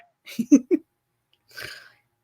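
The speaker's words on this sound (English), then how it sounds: "You just snorted." Someone makes a few quick nasal snorts of laughter in a row, close and fairly loud, followed after a short pause by a softer breathy exhale.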